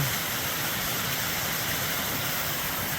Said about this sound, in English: we've come across a waterfall out here on the trail